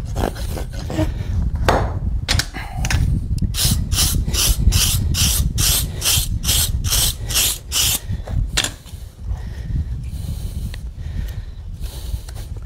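A hand rasp files the edge of a horse's hoof in a run of about a dozen brisk, evenly spaced scraping strokes, close and loud, with a few slower scrapes before and after and no talk.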